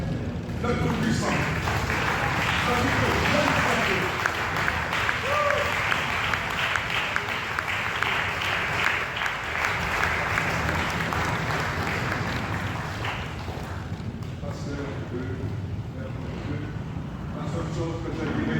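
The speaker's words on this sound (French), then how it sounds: "Acclamez le Tout-Puissant." A church congregation applauding the Almighty, loud sustained clapping from a large crowd with cheering voices mixed in, steady throughout and fading slightly toward the end.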